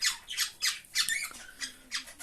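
Two caged birds, a newly paired couple, letting out a quick series of sharp, harsh squawks, close and fairly loud, in short bursts with no talking.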